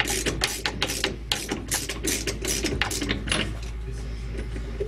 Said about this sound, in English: You need your 3/4-inch socket again to remove the bolt.